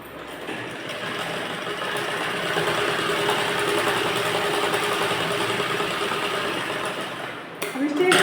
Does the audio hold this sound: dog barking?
no